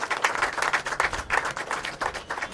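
Audience applause honouring a family at a hospital opening in Kandivali: fairly faint, uneven clapping from a small crowd with distinct individual claps pulsing throughout.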